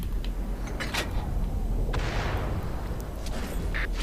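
Artillery fire in the World of Tanks video game on Xbox One, a dense rumbling battlefield din with a few sharp reports and one rushing, whooshing blast near the middle, fairly loud throughout.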